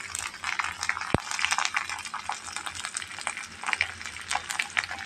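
Onions and ginger frying in oil for koi fish curry, a steady crackling sizzle with a sharp clack of a utensil near the start, close and unbroken, no talking.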